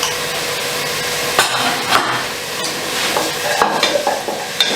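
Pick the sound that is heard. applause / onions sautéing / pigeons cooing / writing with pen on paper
onions sautéing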